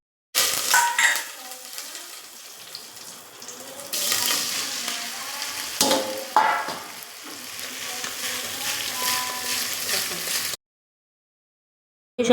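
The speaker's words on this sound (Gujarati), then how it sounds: "આપણે ફ્રાય કરવા માટે રાઈ, જીરું અને કડી પત્તા લીધા છે" Mustard seeds, cumin and curry leaves frying in hot oil, crackling and sizzling loudly up close, with louder bursts of spattering and occasional stirring scrapes before the sound cuts off abruptly.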